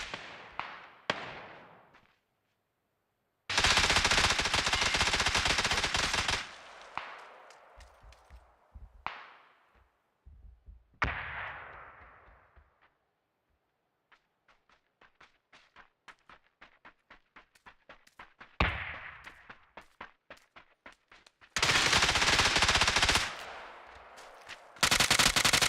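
Gunfire in the western video game Far Far West, with dense machine-gun bursts alternating with rapid single shots and quieter gaps, loud and close throughout.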